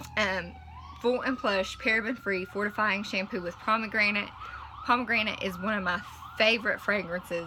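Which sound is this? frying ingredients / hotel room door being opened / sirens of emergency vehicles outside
sirens of emergency vehicles outside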